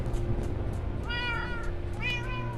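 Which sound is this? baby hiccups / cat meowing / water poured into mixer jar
cat meowing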